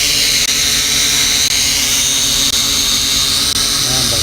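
A Holy Stone HS100 GPS FPV RC drone hovers close by, its rotors giving a loud, steady, high-pitched buzzing whine throughout, with a slight drop in pitch near the end as it comes in to land.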